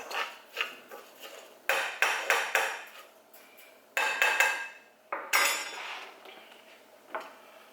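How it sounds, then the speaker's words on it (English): A spoon stirs browning rice in a metal pot, giving bursts of scraping clatter and clinks in uneven clusters, close and moderately loud, with short pauses between strokes. "Give this rice a little stir"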